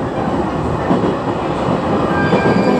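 A Japanese passenger train climbs over the Nakayama mountain pass on the Banetsu line, a steady close rumble of wheels and carriage noise throughout with no voices.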